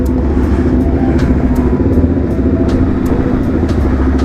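Supermoto motorcycle being ridden, a close, loud, rough engine rumble that runs unbroken through the whole stretch, with no talking.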